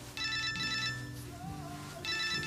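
A mobile phone rings with a bright electronic ringtone in two loud bursts separated by a short gap, over low indoor background sound.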